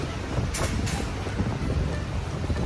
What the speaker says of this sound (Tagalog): Actually lumakas nga yung hangin, pero kayang-kaya yung lamig.